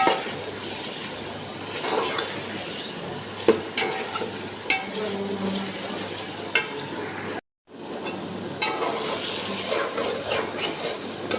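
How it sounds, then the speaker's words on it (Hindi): Tomatoes, garlic and onion frying in a pot for biryani give a steady, close sizzle with periodic stirring clacks and scrapes, briefly cutting to silence partway through before the frying resumes. "आप देख सकते हैं कि ये अच्छे से फ्राई हो रहा है"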